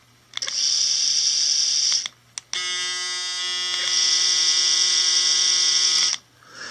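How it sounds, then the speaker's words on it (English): A Braun foil electric shaver buzzes loudly up close in two runs, a harsh steady motor drone that stops briefly, restarts, then cuts off. "This Braun shaver is excellent. That's the noise there."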